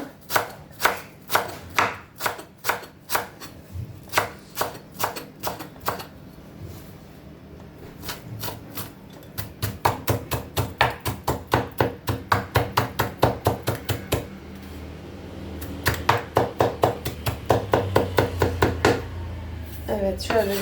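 A knife chops dill very finely on a board in rapid, evenly spaced strikes, loud and close, with short pauses between bursts and a voice briefly in the background.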